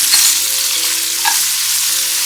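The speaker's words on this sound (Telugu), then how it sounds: "వీటిని మనం వెల్ మిక్స్ చేసుకోవాలి." Okra fries loudly with salt and turmeric, a dense continuous sizzle under faint stirring, with a steady background hum and no talking.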